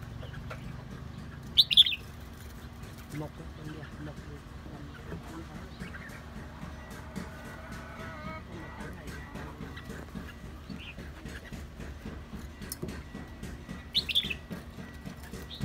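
White-eye birds at a bird-selection gathering in Cao Bang chirp and sing in short, scattered calls, with a couple of louder bursts near the start and end and some rustling or wing flutter, over a low room murmur.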